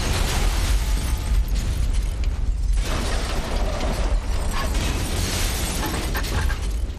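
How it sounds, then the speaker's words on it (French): Model buildings blow up in a film: a loud, sustained roaring explosion with crackling debris and rumbling, a brief lull, then more thundering blasts and clatter. "une belle explosion de maquettes d'immeubles"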